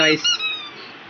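A squeezy toy from a fancy goods store lets out one short, bright squeak up close that fades away in about a second.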